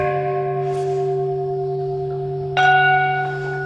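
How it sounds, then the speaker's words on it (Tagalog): A Buddhist orin bell rings at a temple in Sapporo: a lingering metallic tone hums throughout, and a second clear strike rings out near the end and sustains. "please ring the orin or Buddhist bell and offer the sound of the orin to the Buddha as a sign of your visit to the hill of the Buddha"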